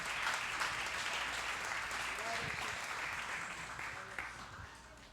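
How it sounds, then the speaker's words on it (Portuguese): A church congregation applauding during a worship service, steady crowd clapping that tapers off toward the end, with faint voices murmuring underneath. "Você pode aplaudir ao Senhor?"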